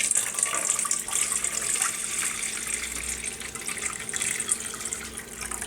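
Hot water pours steadily into a bowl serving as a water bath around a container of oil, a close continuous splashing gush with bright fizzy texture and no voices.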